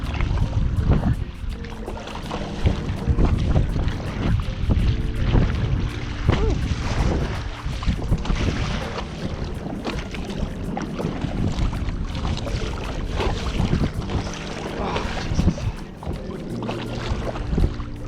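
A 12'6" Gili Meno touring stand-up paddleboard rides through waves, with sloshing and splashing water and gusts of wind noise rising and falling continuously up close.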